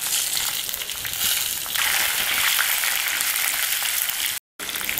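Green chillies and curry leaves crackling in hot oil, a bright close sizzle with crisp spitting texture that swells after a moment and cuts out briefly near the end.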